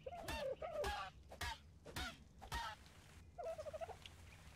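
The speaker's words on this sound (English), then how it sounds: "That's a strong-ass dodo bird, bro." A dodo bird squawking in ARK: Survival Evolved, several loud gobbling squawks in quick bursts with short gaps between them and a final warbling call.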